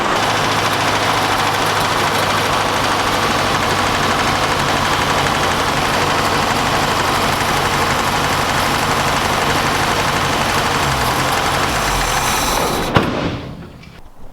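An old car engine idles steadily with a low, even rumble and faint rhythmic knocking, running unchanged for a long stretch before cutting out near the end.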